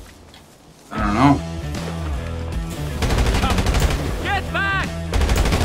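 Gunfire in GTA Online: rapid bursts of automatic shots crackle at close range over a low engine-like drone, while a voice shouts briefly partway through.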